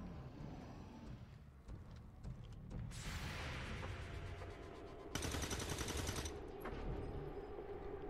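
Gunfire from the XCOM 2: War of the Chosen strategy game rings out in two sustained, noisy bursts over a low background rumble.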